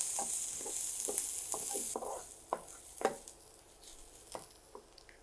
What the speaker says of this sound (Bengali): বাদাম, সেটাকে ভেজে নিব